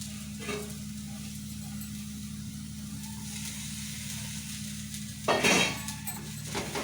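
Bitter gourd fry with salt, chilli powder and coriander being stirred in a pan, a steady soft sizzle with scraping strokes and a louder clatter of the spoon near the end.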